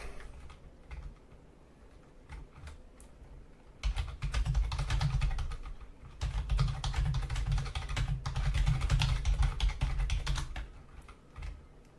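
Typing on a computer keyboard: dense runs of rapid, crisp key clicks close by, with quieter stretches of scattered taps between louder bursts of fast typing.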